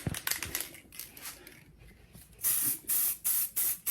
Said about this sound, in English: I know I'm spraying the inside of these blasters at the moment.